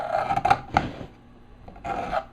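A plastic scraper rasps thick, loosened grease off a kitchen cabinet in a few short scraping strokes, close and fairly loud, with a quieter pause before a final longer scrape.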